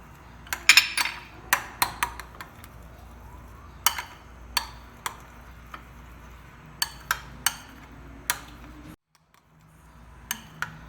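Chicken being mixed with salt, red pepper and garam masala powder in a bowl, with sharp irregular clinks and taps of utensil against the dish, scattered bursts over a quiet background.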